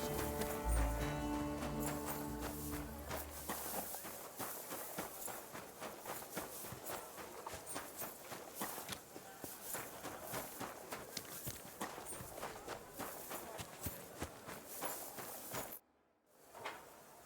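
Horse hooves clip-clop steadily at a walk in the medieval game Kingdom Come: Deliverance 2, fairly faint and rhythmic over light ambience, ending in a brief silence.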